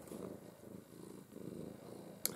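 A pet cat purrs steadily in close-up, a soft rhythmic rumble of in-and-out breaths with no voices, ending with a brief sharp click.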